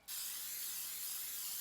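Cooking spray hisses steadily from an aerosol can onto baking pans for a beef shepherd's pie, one continuous close spray that starts abruptly and runs unbroken for well over a second.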